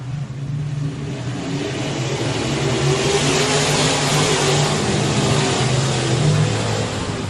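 A pack of dirt track race cars accelerates on a restart, engines roaring loud and sustained as they pull away, a dense droning mix of revving motors with no voices.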